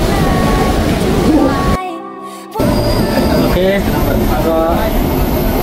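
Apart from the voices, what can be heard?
train passing below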